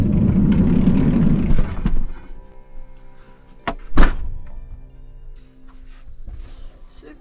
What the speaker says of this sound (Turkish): Kapıyı kapıyor.